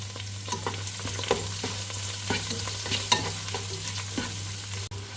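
Onion, green chilli, curry leaves, ginger and garlic frying for a Mangalorean dry fish dish: a soft steady sizzle with irregular spatula scrapes and taps, close but fairly quiet, with no voices.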